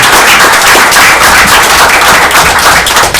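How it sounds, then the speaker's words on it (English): Loud, dense applause from a council meeting audience fills the room without a break, with many overlapping hand claps carrying on steadily from start to finish. "clap for Chrissy"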